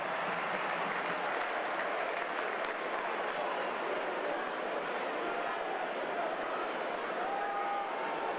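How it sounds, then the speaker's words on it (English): A packed rugby stadium crowd roars and cheers after a try at a 2007 London Irish versus Toulouse match, a dense, sustained wash of noise with steady loudness throughout and no individual voices standing out. "The crowd roaring home that try."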